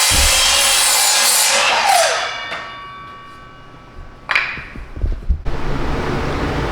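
Wooden board being cut to length for the base of a flower box, a loud rasping saw stroke that fades out, then a few knocks and scrapes of wood and a closing burst of noise.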